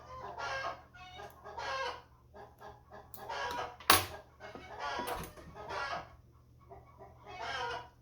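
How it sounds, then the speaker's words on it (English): Chickens outside a window cluck in repeated bursts, fairly near but faint, with a short sharp knock partway through and a low steady hum underneath. "the chickens are hanging out right outside the window here"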